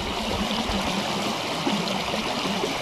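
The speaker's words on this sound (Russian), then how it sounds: "Водопадик." Small waterfall in a spring-flood stream on the Tirlyanka River in the Southern Urals, a close, steady rushing and gurgling of water throughout, with no talking.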